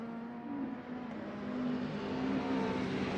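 Sim racing touring car at Thruxton accelerates out of a corner, its engine note climbing steadily into a loud, sustained drone with a slight rise in pitch, and no voices over it.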